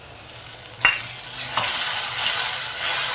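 Ground tomato paste stir-fried with golden onions for egg curry: a sharp utensil clack, then a continuous close sizzle with stirring scrapes, no voices.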